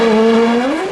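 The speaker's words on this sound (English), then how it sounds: "Zanardi turned 13 laps in Lausitz at an average clip of almost 200 miles an hour" Race car driven by Zanardi at the Lausitz circuit, a loud, close engine scream holding a high, steady pitch that dips slightly as it passes.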